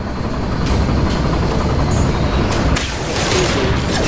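Automated flight weaponry fires in Mass Effect 2, a loud, sustained barrage of overlapping shots and booms that rumbles without pause for several seconds.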